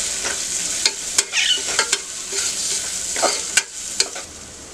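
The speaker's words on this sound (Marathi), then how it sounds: "कोथिंबीर गरम मसाला, धना पावडर, लाल मसाला, हळद चांगलं परतून घेऊया." Spices including garam masala, coriander powder, red chili powder and turmeric sizzle steadily in a hot pan for masale bhaat, with close stirring and occasional sharp scrapes of a spoon against the pan.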